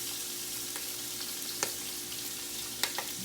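Half a large onion fries in a spicy sauce, a steady faint sizzle with a few soft clicks of a utensil against the pan.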